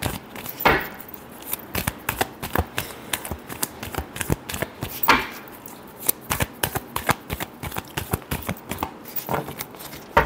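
A deck of tarot cards is shuffled by hand, a rapid, continuous run of close, crisp riffling slaps and flicks with a few louder snaps.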